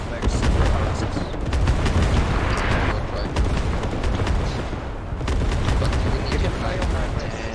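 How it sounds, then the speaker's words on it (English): An artillery strike during a Squad match on Gorodok, dense booming impacts and crackling gunfire layered into a loud, continuous battle roar, with a voice talking over the din. "Not a whole lot of profit for that artillery strike."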